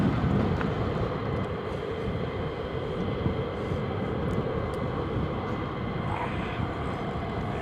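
Fighter jets at RAF Lakenheath make a steady, loud, broadband roar that holds without a break, close and continuous, with no voices on top.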